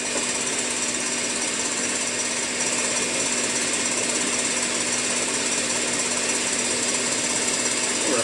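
KitchenAid stand mixer whipping meringue at speed, a loud, steady, unbroken motor whir with a constant hum throughout.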